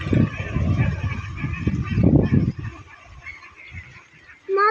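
Ducks in a waterlogged paddy field call in repeated nasal quacks and honks, close and fairly loud, thinning out toward the end, with faint voices in the background.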